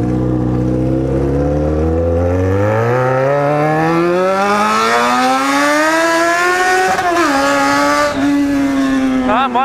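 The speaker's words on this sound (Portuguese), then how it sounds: "A moto querendo sair à frente" A Yamaha XJ6 motorcycle accelerating hard, its engine note rising steadily through the revs, with a short dip around a gear change before climbing again, loud and close throughout.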